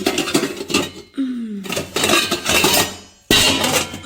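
Pots and dishes topple over in a home kitchen during a cleaning session, giving a loud, close clatter of metal and ceramic. Several crashes come in quick bursts with brief pauses between them, and no one speaks.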